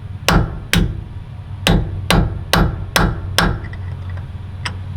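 Sharp hammer blows strike a chisel on an old farm truck, seven loud metallic whacks at uneven intervals, close by, with a fainter tap near the end and no talking.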